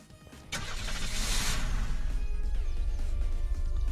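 A tractor in the video game Unturned turns over and settles into a loud, steady engine drone that keeps running without a break.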